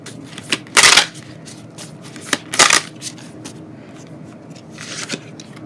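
Tarot cards shuffled by hand, with several loud riffling bursts separated by lighter taps and slides of the deck, close up, with no talking.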